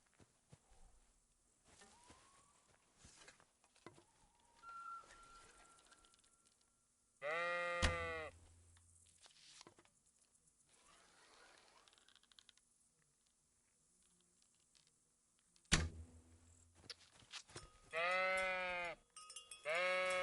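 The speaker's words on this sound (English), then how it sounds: "How do we kill the sheep?" Sheep in the medieval role-playing game Kingdom Come: Deliverance give two loud, wavering bleats far apart, separated by quiet stretches of faint clicks and game ambience.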